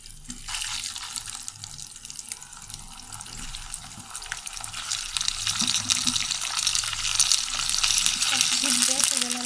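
Potatoes fry in hot salted oil for a spicy beef curry, a steady broad sizzle that grows louder toward the end, with a few faint clinks and a murmur of voice in the background.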